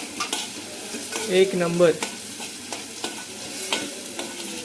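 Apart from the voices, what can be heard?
bheja fry (mutton brain) frying in masala paste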